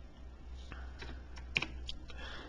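Fingers tap on a computer keyboard, a few quiet, scattered keystrokes with one slightly sharper click near the middle, close by in an otherwise quiet room.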